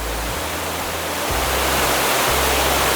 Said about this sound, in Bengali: সেই জায়গায় এসে আমরা দেখতে পাচ্ছি যে জল আস্তে আস্তে ওপর থেকে একদম নিচে নেমে যাচ্ছে।